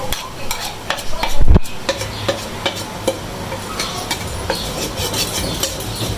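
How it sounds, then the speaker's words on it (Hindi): Beef keema fries and sizzles in a pan while a spoon stirs it in steady scraping strokes, with one louder clatter early on and no voices. "अभी कीमा फ्राई हो जाए हमारा, फिर थोड़ा सा भून जाए"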